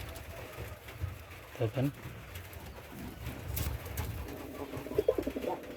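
Yellow-eyed pigeons, a male and female pair, cooing in short repeated bursts, close and fairly quiet, with someone speaking intermittently over them.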